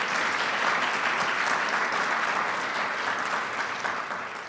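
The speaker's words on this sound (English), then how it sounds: "how about a final round of applause for our panelists?" A conference audience at an energy event gives panelists a final round of applause: loud, dense clapping from many hands, sustained and then gradually thinning toward the end.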